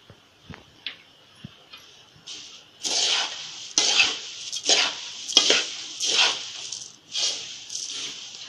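Spoon scraping and clattering in a metal pan while chivda snack with coconut, peanuts and salt is mixed, starting with a few sparse taps, then rhythmic bursts of rattling stirring, close and fairly loud, with no talking.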